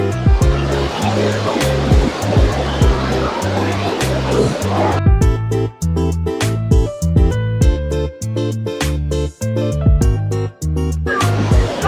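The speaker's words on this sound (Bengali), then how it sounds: "চারিদিকে যেখান দিয়ে জল ওখান দিয়ে ঝর্ণা হয়ে পড়ছে।" Kynrem Falls at Cherrapunji roars as a loud, continuous wash of falling water, nearby and steady throughout, with sharp clicks and bumps from wind or handling over the top.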